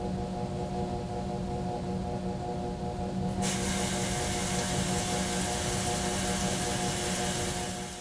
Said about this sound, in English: You may hear the motor ramping up and the basket spinning while the fill valve is adding water into the basket.